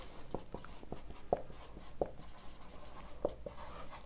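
Pen strokes scratch across paper in quick short bursts, close and quiet, as a formula for the coefficient of range is written out by hand. The strokes come in an uneven rhythm with brief pauses between marks.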